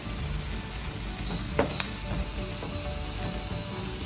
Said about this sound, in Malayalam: ഇനി ഇത് വീണ്ടും വഴറ്റിയെടുക്കാം.